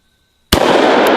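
A double barrel 1911 pistol fires a single loud, sharp shot outdoors after a moment of silence, followed by a long, noisy ringing tail and a faint second crack.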